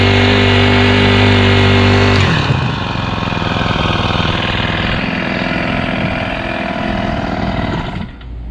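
Small gas engine with a centrifugal clutch, warm from earlier running, starts up loudly after a steady buzz and keeps running with an uneven, rough idle close by for several seconds.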